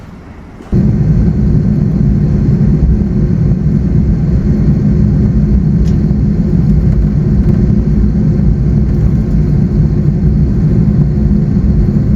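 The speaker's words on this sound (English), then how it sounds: "Prepare for takeoff." Sustained loud roar of an American Airlines Airbus A321 on its takeoff run from Chicago, heard from inside the cabin. A steady, heavy low rumble begins abruptly and continues unbroken for the rest of the clip.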